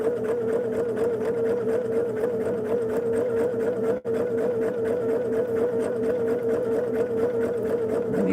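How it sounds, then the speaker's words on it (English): A sewing machine runs continuously, stitching down a quilt's foundation fabric for a Wedding Star block, a close, steady mechanical whir and needle chatter with only a brief pause midway. "now I want to stitch this down"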